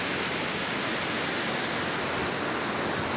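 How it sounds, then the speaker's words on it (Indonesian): Strong ocean waves at Sawarna beach, a continuous loud rushing surf wash that stays even and unbroken throughout. "Lihat ombaknya yang sangat keras."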